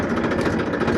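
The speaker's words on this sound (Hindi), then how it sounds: "तो ट्रैक्टर करते हैं स्टार्ट" A farm tractor's diesel engine runs at a steady idle, a dense continuous rumble with a loose low throb, loud and close, with no voices.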